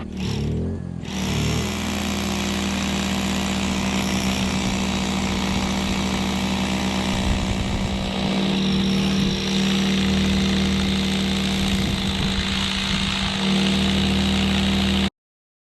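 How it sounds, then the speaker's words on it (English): A loud, continuous motorized drone with a low hum runs throughout, a heavy hammer drill boring into rock steadily without pause. "So now we're going to a hammer drill."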